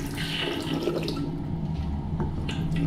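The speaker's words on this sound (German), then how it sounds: "Jetzt kommt da Wasser, ich glaub's ja nicht." Tap water runs steadily into a sink in a hotel bathroom in Western Sahara or Mauritania, a close continuous gush and splash with no talking.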